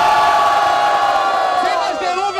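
Rap battle audience cheering loudly for a rapper, a dense continuous roar of shouting and whooping voices that stays full throughout.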